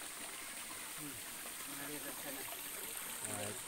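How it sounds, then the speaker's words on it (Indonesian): Spring water seeps gently from a meadow source rather than a mountain, so the flow is weak. It makes a steady, soft watery hiss at a village tourist site, and a person talks over it. "sumber mata airnya ini dari padang ya, bukan dari atas gunung, jadi dia nggak terlalu deras, rembesan dari padang"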